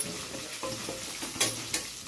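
Onions frying in a pan for a raw mango, drumstick and cashew curry, a steady soft sizzle with a few sharper scraping stir strokes near the end.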